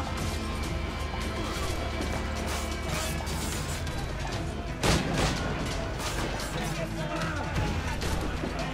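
Heavy naval cannon fire from sailing warships in Assassin's Creed IV: Black Flag, a continuous roar of battle with one loud booming blast standing out midway.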